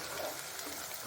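Onion frying in a wok for a home mushroom dish: a faint, steady hiss of oil sizzling, low and continuous for about a second, with no voices.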